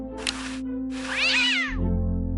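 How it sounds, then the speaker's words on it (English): A single wailing meow from a game cat in Day of the Tentacle rises and falls over a sustained background drone, preceded by a brief hiss of noise and followed by a low swell. "What a pretty pussycat."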